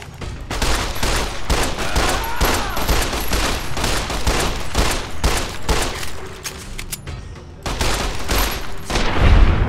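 Rapid gunfire from a hunting rifle and other weapons in the Fallout New Vegas video game, dense overlapping shots and booms sustained loudly throughout, with a brief lull near the end before more firing.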